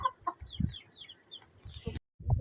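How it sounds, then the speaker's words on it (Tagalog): A brooding hen clucks softly while newly hatched chicks cheep in high, thin peeps, close and quiet with brief pauses. "binaba natin ang mga sisiw natin"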